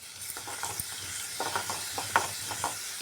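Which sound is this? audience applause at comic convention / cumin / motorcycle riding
cumin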